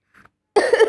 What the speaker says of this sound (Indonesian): Mana batuk dedek?